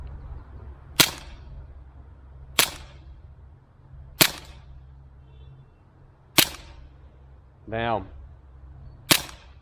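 Cybergun Taurus PT24/7 G2 CO2 airsoft pistol firing five sharp single shots at uneven intervals, each a crisp close crack, with a brief metallic ping from a pellet striking a metal pole and a short spoken exclamation.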